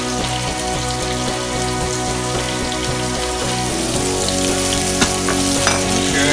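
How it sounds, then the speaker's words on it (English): Snap peas and summer squash fry loudly in a hot pan, a steady, dense sizzle with constant crackle and no pauses, heard alone without talk. "They're frying up already"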